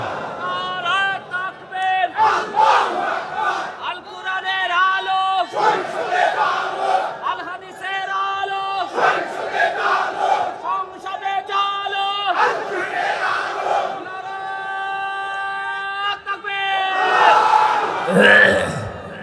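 At a religious gathering, a large crowd chants the takbir in unison in answer to a preacher, loud swelling group voices repeating in waves with the preacher's voice between them.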